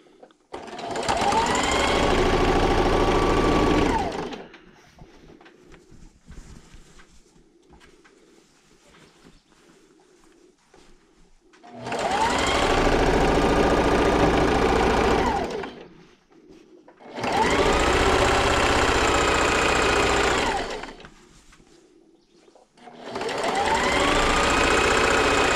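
A sewing machine stitches a thin fabric table runner in three long, loud bursts separated by quiet pauses, each run starting and ending with a rising and falling whir at close range.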